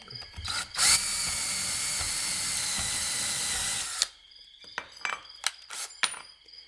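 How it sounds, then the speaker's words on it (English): Step drill bit boring a hole during a DC breakout box build for a pedal board, a steady, close, high whirring grind held for about three seconds, then stopping, followed by a few scattered clinks and light handling knocks. "Reason I'm kind of using that instead of just going straight to the bigger unibit is it doesn't cut as well going from a smaller hole."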